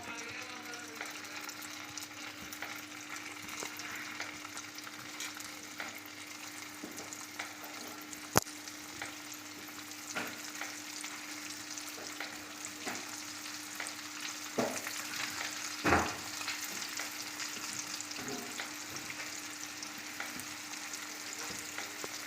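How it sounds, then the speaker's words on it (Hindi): Crispy chicken pieces frying in hot oil on a home stove, a long, steady, fairly quiet sizzle with occasional clinks and a brief louder crackle or stir partway through. "अब अगेन मैंने इन्हें फ्राई करना है।"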